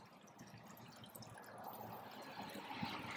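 Water runs over the lip of a concrete fountain bowl during assembly, a soft, steady trickle and splash with faint gurgles, quiet and close.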